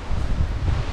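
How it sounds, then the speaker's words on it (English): Strong wind buffets the microphone at a beach near Auckland, New Zealand, a constant low rumble with gusty fluctuations and no voices. "It's quite windy, so yeah, the air is quite cold."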